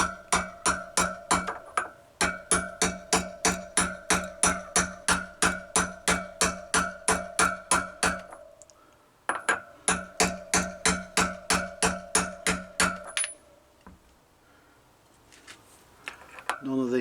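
Steady hammer blows drive a front wheel bearing into a Triumph Bonneville T140 hub, loud close metallic strikes in a regular rapid rhythm, pausing briefly midway, then resuming before stopping.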